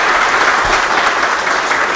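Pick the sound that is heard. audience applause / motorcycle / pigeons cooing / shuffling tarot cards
audience applause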